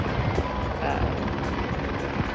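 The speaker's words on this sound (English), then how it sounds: "This one is a helicopter flying tourists" A tourist helicopter flying over the Puez-Odle nature park in the Dolomites: a steady, dense rotor drone with a faint rhythmic chop, heard from a distance with people talking over it.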